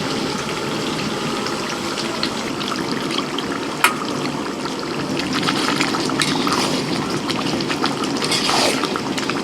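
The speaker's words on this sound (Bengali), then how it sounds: "এই যে গরম জল একটু করে রেখেছি একটু গ্রেভি গ্রেভি করতে বলেছে এই জন্য একটু জল দেওয়া" Hot water pours into a large batch of chicken curry cooking for a wedding meal, a steady close trickle and gurgle over a low background rumble, with one sharp clink partway through.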